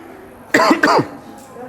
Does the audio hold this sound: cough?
yes